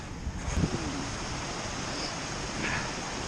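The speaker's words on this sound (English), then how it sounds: "the waterfall's coming down, it's joining another fall there" A snowy waterfall rushes down to join another fall, a steady broadband roar from start to end with gusts of wind and a brief scuffle of footsteps near the start.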